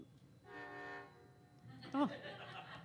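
A train horn sounds in a short harmonic blast, moderately distant, with a second brief toot amid crowd chatter and room noise; people are talking throughout.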